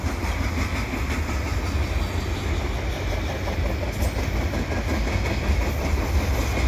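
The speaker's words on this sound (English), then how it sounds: "I've got an Eastbound CN train here in Pointe Claire" An eastbound CN mixed freight train with auto racks rumbles past close by on Donegani Street in Pointe-Claire, its wheels clattering steadily on the rails in a continuous loud roar.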